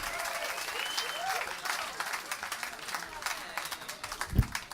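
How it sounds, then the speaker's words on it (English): Audience applause and cheering fill a London comedy club as a stand-up comedian is welcomed to the stage, a steady dense roar of clapping with a sharp thump near the end. "Let's start off with a nice big round of applause"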